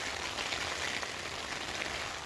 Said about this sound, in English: if you can hear the rain on the tent